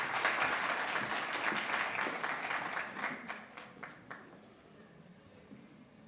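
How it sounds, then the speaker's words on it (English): Applause from an audience at an International Migrants Day 2023 event in Kenya, a dense wash of clapping that holds for about four seconds and then thins out to a few scattered claps and quiet. "Let's give him a warm round of applause."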